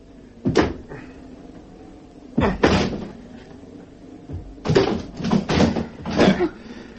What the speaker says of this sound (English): I'm going to try and force the door.